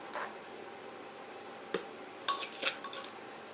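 Fresh chili and dill dipping sauce spooned into a bowl: a few soft clinks and wet scrapes of utensil on dish, scattered and close, with quiet room noise between.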